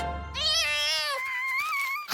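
A cartoon cat gives one long, drawn-out meow that rises and then falls. It is loud and close, with no talk over it.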